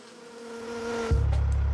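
Honeybees buzz steadily and close by, the hum swelling into a louder, deeper drone partway through.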